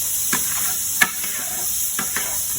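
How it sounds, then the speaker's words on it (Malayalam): Mashed potato being stirred and mixed by hand for cutlets in a hotel kitchen, a few soft scraping and stirring strokes over a steady background hiss, with no voices. "കിഴങ്ങ് നമ്മൾ ശരിക്കും മിക്സ് ചെയ്ത് എടുക്കണം"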